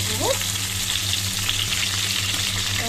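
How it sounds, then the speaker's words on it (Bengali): Fish fries in a pan with a constant close hiss and crackle of hot oil, steady and fairly loud, under a low kitchen hum and no speech. "মাছটা ভাজা বসিয়ে দিয়ে আমি সবজিটা কাটবো"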